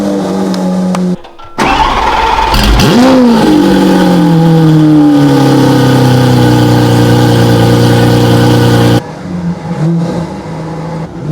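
Lamborghini supercar engine starting with a sharp bark, then revving loudly and falling back to a steady, rough idle held for several seconds close by, with a brief lull before and after.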